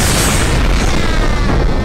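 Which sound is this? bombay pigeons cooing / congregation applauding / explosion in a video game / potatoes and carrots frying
explosion in a video game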